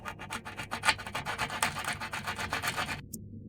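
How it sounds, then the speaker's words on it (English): Sandpaper rubbing back and forth over a super-glued joint in a ceiling profile, quick rhythmic rasping strokes, close and fairly quiet, stopping abruptly near the end. "you can sand it with sandpaper."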